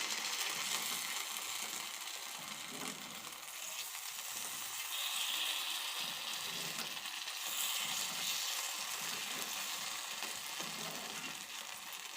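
Coconut rava paniyaram batter cooking in the wells of a paniyaram pan, giving a steady close sizzle and crackle of frying that holds at an even level throughout with no talk.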